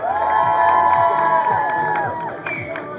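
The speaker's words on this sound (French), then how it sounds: "Faites du bruit pour Kitsune pour qu'elle nous entende." A crowd at a cosplay contest in Sollies-Toucas, 2025, cheers and shouts loudly for a cosplayer called Kitsune, with overlapping high whoops and yells that fade slightly toward the end.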